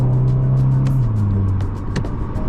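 An electric Mercedes car accelerates hard, a loud steady motor whine that slides downward in pitch partway through, heard close up from inside the car.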